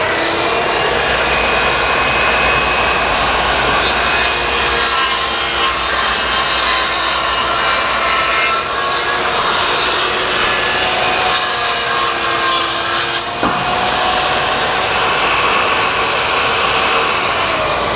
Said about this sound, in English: We're going to open our blast gate, turn the saw on,